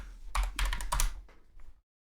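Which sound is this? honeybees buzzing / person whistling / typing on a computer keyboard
typing on a computer keyboard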